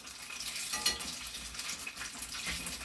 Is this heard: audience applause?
no